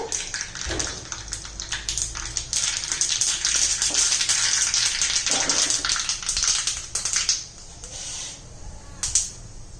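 Steady, dense crackling and hissing of mustard and sesame seeds spattering in hot oil in a wok, close and continuous, with a few sharper pops toward the end.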